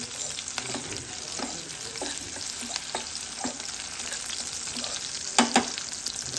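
Green chillies fry in a pan with a steady, fairly quiet sizzle and occasional stirring clicks, louder for a couple of brief knocks near the end, with no talking.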